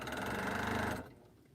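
A sewing machine stitching a quilt seam runs steadily and loudly for about a second, then stops, leaving a faint room tail.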